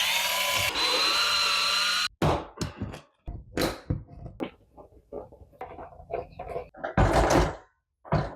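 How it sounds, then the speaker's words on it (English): A power drill whirs continuously for a couple of seconds drilling a hole in a wall to mount an electric panel heater, stops, then come scattered knocks, clicks and handling noises. "drill the bottom hole so it lines up perfectly"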